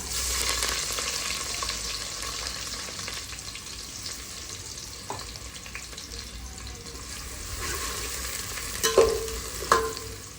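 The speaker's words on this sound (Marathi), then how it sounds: "तेल गरम झालंय, आता आपण याच्यामध्ये कांदा, टोमॅटो आणि कढीपत्ता टाकूया" Onion, tomato and curry leaves fry in hot oil in a pot, giving a continuous close sizzle with faint stirring scrapes and a couple of brief clinks near the end.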